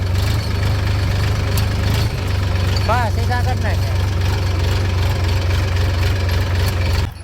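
A tractor engine idles in a steady low, heavy rumble throughout, close by, with a brief voice speaking over it partway through.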